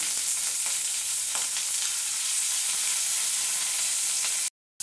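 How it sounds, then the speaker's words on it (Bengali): Cauliflower pieces fry in hot oil, giving a loud, steady hiss and sizzle that continues until a brief cut near the end. "আমি এক এক করে সব সবজিগুলো ভেজে নেব। প্রথমে দিয়ে দিচ্ছি কপিগুলো।"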